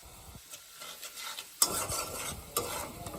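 Stirring potatoes in a hot pan with a steady sizzle of frying, scraping utensil strokes and a couple of sharper clinks against the pan.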